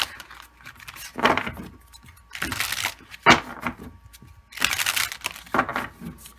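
Crisp riffling and slapping of a new tarot card deck being shuffled, several bursts in a row with brief pauses between, close and fairly loud.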